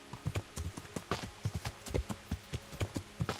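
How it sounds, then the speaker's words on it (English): Horse hooves galloping in the medieval game Kingdom Come: Deliverance, a steady rhythmic run of close, thudding clip-clops repeating in quick pairs throughout. "Giddy up, horsey. Giddy up the mountain."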